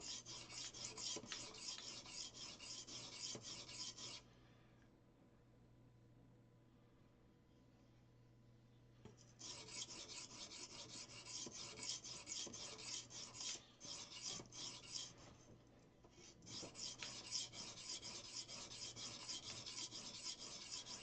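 A steel blade is rubbed against a sharpening stone in steady, close raspy strokes, stopping for a few seconds before the scraping resumes in continuous passes, with no voices.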